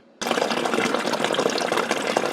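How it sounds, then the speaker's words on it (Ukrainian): Water gushes from a public water pump into containers, starting abruptly and running in a loud, steady splashing stream with no talk. "Ось так ми набираємо воду."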